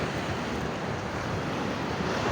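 Sea waves at Aparri, fairly calm after a storm, make a continuous broad roar of surf with some wind buffeting across the microphone. The sound is loud and unbroken, with no talking.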